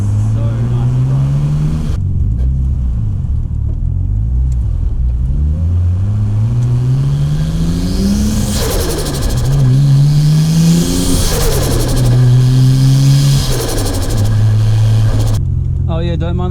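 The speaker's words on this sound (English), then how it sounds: "you guys can just hear this turbo because it sounds so sick" A turbocharged Nissan Nismo with a faulty temperature sensor revs and accelerates up through several gears, its loud, close engine note climbing and dropping with each shift, with turbo whoosh and a voice speaking over it.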